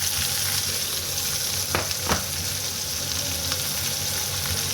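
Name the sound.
sliced onion, green chili and curry leaves stirred in pan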